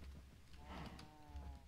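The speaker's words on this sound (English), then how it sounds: "look at this cow" A cow in the Minecraft video game lets out a single low moo, heard alone at moderate level with faint game ambience behind it.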